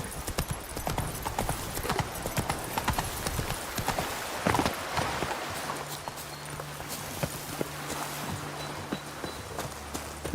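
Roach, a horse in The Witcher 3: Blood and Wine, gallops with dense, rhythmic hoofbeats that are loud and close, then slow toward the end, with brief talk.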